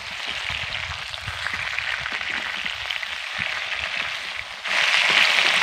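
Biryani spice powder is stirred into browned meat in a pan, giving a steady close sizzle with faint scraping that swells louder near the end.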